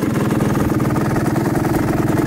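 A 1996 Suzuki RMX 250 two-stroke dirt bike idles close by, its engine putting out a fast, even, throbbing putter that holds steady throughout.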